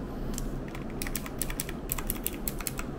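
Clicky mechanical keyboard keys pressed in short, uneven bursts, crisp and close, with separate sharp clicks standing out over a quiet room.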